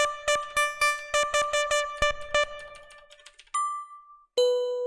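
Bell ding sound effects auditioned for a game score: a quick run of bright, ringing dings with shimmering overtones, followed by two longer sustained bell tones, loud and close with no talking.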